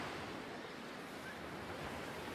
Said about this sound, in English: You watch the waves glide smoothly towards you